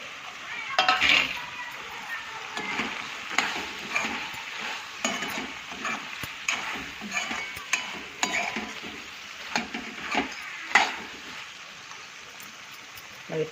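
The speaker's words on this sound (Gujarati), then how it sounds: "રીંગણ ચડી ગયા અને હવે નાખી દઈશું આપણે બટાકા" Fried potatoes are tipped into a pan of cooked eggplant and stirred, a continuous sizzle with repeated spoon scrapes and metallic clinks against the pan at an even, unhurried pace.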